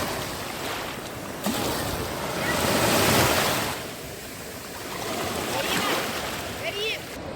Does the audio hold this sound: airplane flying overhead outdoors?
no